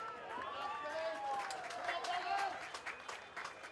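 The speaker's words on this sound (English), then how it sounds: "as you can hear from the applause" Crowd at a NEAFL football match applauding a kicked goal from around 50 metres, a soft, distant ripple of clapping heard under a commentator's voice.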